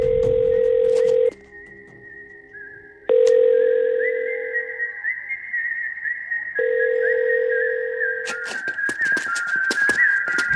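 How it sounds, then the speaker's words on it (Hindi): Ringback tone on an outgoing phone call in an action film scene: long steady electronic tones repeat in a regular on-off cadence, loud and clear, with other whistly sounds entering near the end. "भैया रिंग जा रही है।"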